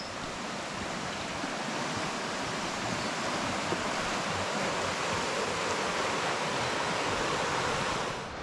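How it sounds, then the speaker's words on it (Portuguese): River with lots of flowing water rushes in a steady, dense roar, close and continuous throughout with no voices over it, along a walking trail between Zubiri and Pamplona in Spain. "olha o rio. Ei, muita água."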